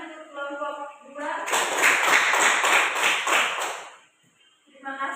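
A university class applauds a student group after a curriculum-study presentation, about two and a half seconds of brisk group clapping with a rapid patter, set between stretches of speech.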